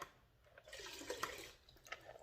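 Excess water is poured out of a 12 lb Lortone rock tumbler barrel, a soft, faint splash and trickle lasting about two seconds.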